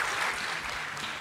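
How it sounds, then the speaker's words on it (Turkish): A studio audience at a Turkish talent show claps together, a short burst of steady, dense applause heard up close. "Alkışlarla kulise uğurluyoruz"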